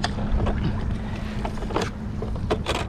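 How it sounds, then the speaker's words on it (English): Wind buffets the microphone with a low rumble over lapping water near a small fishing boat on the Townsend Inlet Reef off South Jersey, with occasional sharp gusts and splashes. "Man, you hear that wind?"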